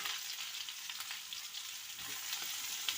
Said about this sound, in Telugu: ఇప్పుడు ఇవి ఇవి వేగిపోయింది కదండి ఇందులోనే సొరకాయ ముక్కలు వేసేసుకున్నాం